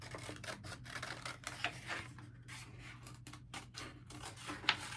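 Scissors cut paper triangles for a Christmas craft in a run of soft, close snips and rustles over a low hum, all quiet and with no talking.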